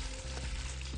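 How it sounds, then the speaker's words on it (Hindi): Meat browning in a pan for a home-style curry, a steady close sizzle and crackle of frying filling the moment with no voices. "अब आप गोश्त को थोड़ा सा भूनें"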